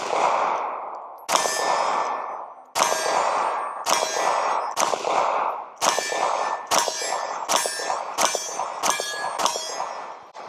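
Shots from a Ruger LCP MAX pistol ring off a steel target about 10 yards away, producing eight or nine sharp metallic clangs at an uneven pace, each with a bright ringing decay.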